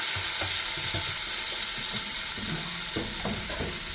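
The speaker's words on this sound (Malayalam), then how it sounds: "ഇതൊന്ന് പൊരിച്ചെടുക്കാം" Shrimp cutlets fry in a pan with a constant loud hiss of oil and scattered soft pops and crackles close by, without any voices.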